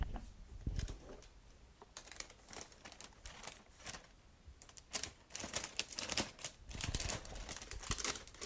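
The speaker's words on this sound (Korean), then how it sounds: "비닐을 제거해 봅니다." Close, quiet crinkling and tearing as plastic wrap is peeled off the box of a 1973 BMW 3.0 CSL diecast model car, in irregular crackly bursts with no talking.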